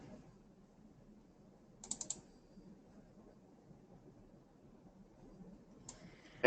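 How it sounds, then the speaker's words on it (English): Computer keyboard typing during an online meeting call: a couple of short, sparse bursts of light clicking keys separated by long quiet stretches, with one last cluster of taps at the end. "Okay, I can hear you typing"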